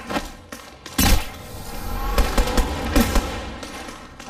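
Rapid gunfire in an Android shooter video game, with sharp, loud bursts and thumping shots cracking irregularly over a continuous battle rumble.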